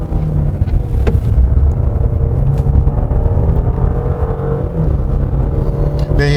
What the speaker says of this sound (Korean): 이 엔진 소리는 뭐 사실 이 차에는 그 가상 사운드 기능이 없죠.